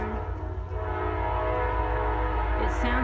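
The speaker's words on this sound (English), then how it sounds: "Oh, the horn." A heritage-unit locomotive horn sounds in short blasts near the end, over a steady rumble of a passing train running close by.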